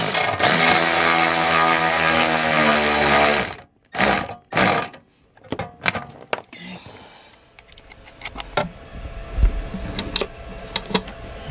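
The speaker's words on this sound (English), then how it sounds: "push this back tight and screw it down to the floor" A drill or screwdriver runs steadily for several seconds, driving a screw down into the floor of a 2012 Airstream trailer, then stops and gives way to short bursts and scattered handling clicks and clunks up close.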